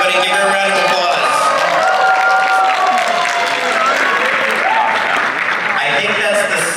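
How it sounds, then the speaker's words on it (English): Convention audience at Anime Los Angeles applauding an AMV contest winner, dense sustained clapping and crowd noise filling a large hall, with voices and cheers mixed in underneath. "Everybody give her a round of applause"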